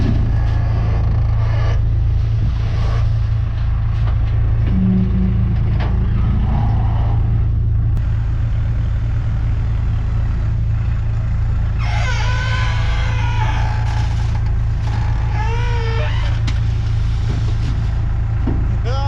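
A pickup truck idles steadily while a yard of gravel pours into its bed at a gravel yard, with a low engine drone throughout and bursts of scraping and rattling partway through.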